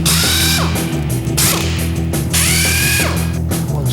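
Power tool driving out the starter motor bolts from a car gearbox, close and loud, with repeated rising whirring bursts over a steady mechanical drone.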